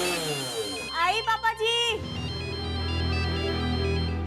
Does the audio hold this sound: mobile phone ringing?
yes